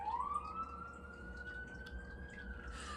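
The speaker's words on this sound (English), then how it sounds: "sirens" A faint siren wails in the distance, one long tone that slowly rises and holds, set against a low background hum with no talking.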